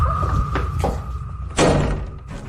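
Several heavy bangs on a door at midnight, irregular thumps with one louder slam near the end, heard close over a low background hum.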